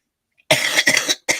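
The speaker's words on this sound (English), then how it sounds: "The lingering coughs are so annoying." A person with a lingering cough lets out a run of harsh, close coughs in quick succession, a short pause, then another cough, in an otherwise silent room.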